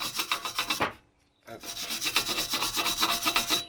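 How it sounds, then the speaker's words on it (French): A brush scrubs a new brake disc on a Honda Civic EJ9 in quick, rhythmic rasping strokes close by, pausing briefly for about half a second before the scrubbing resumes. "bien penser à mettre un petit coup de brosse là-dessus"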